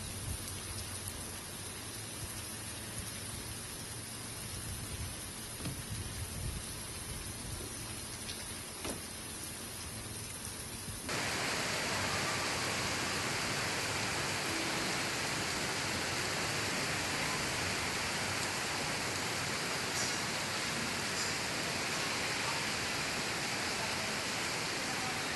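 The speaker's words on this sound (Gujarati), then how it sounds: "ભાવનગર શહેરમાં વરસાદના હળવા ભારે ઝાપટા પડ્યા હતા." Rain falling over Bhavnagar city, a steady wash of broadband hiss that becomes noticeably louder and denser partway through, with no voices.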